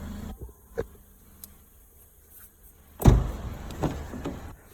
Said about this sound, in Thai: กระจกทั้งสี่บานปรับไฟฟ้านะคะกระจกคนขับหนึ่งบานปรับออโต้ค่ะ